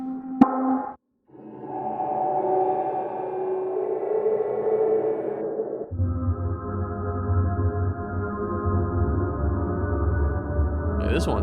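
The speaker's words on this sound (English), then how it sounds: "For example, this is the atomic echo preset." Ujam Relic piano VST playing its atomic echo preset, a heavily processed tone that no longer resembles a piano, starting with a short blip and then sustained swelling echoing layers that shift into a deeper rumbling texture, with no voice.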